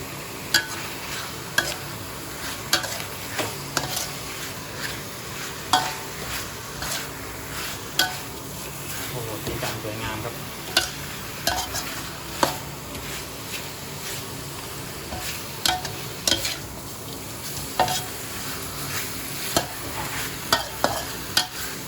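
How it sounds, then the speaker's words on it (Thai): Young coconut shoots are stir-fried with curry paste in a pan for a curry with pork belly, giving a continuous close sizzle and regular scrapes and taps of a utensil against the pan. "นำยอดมะพร้าวอ่อนลงผัดกับเครื่องแกงด้วยครับ"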